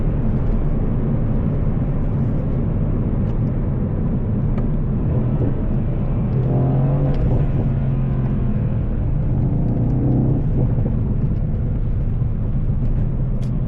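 A Mercedes-AMG C63S engine rumbles low and steady from inside the car during a drive, with a few faint crackling exhaust pops breaking through midway.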